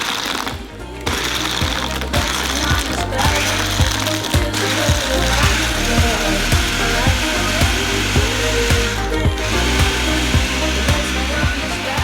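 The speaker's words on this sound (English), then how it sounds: "And then we're gonna blend the ingredients together." A countertop blender whirs loudly and steadily while blending iced coffee ingredients, a grinding motor roar with a rattling, chopping texture throughout, close up and continuous after a brief start.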